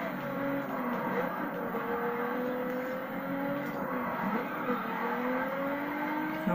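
A car racing in The Crew video game: a steady engine drone with rising and falling pitch as the car accelerates along the road, continuous and fairly loud throughout.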